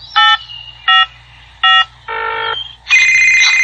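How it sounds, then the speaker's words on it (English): Loud electronic tones from a cell phone: three short, evenly spaced bright beeps, then a lower buzzy tone and a sustained high ring, close and with no talking. "His cell phone."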